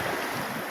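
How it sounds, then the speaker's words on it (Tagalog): Sea waves washing onto a beach, a steady, faint hiss of surf mixed with wind noise on the microphone, with no one talking. "Ang alon. Maalon-alon."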